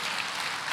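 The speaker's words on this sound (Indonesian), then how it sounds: "Berikan tepuk tangan buat Tuhan Yesus." Church congregation applauding in praise of Jesus, a dense, steady wash of clapping that fills the short moment without a break, with no voices on top.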